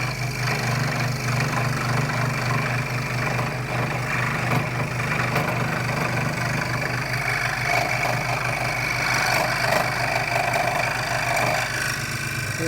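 A Wen 16-inch variable speed scroll saw cutting, a steady close mechanical buzz with a rapid reciprocating chatter and a faint air-blower hiss, continuous throughout without talk.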